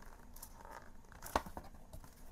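Scissors are pushed into the cover of a Little Golden Book and used to pry it apart, giving faint scraping and crinkling with one sharp crack partway through.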